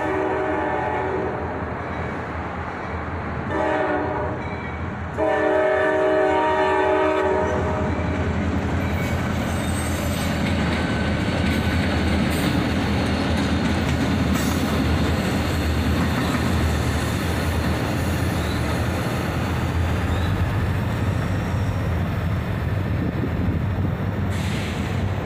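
A CSX geometry train led by a GP40-2 diesel locomotive, built in 1972 for the B&O, rumbles past up close, its engine loud and steady, with a horn note early on and continuous wheel and rail noise that holds throughout.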